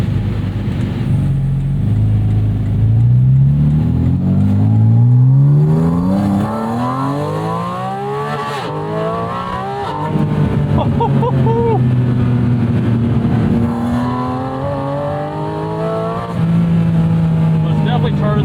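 A Porsche 718 Spyder on a bumpy street revs hard through several rising gear pulls. The engine note climbs, drops at each shift and then climbs again, and a driver talks over the loud, close engine.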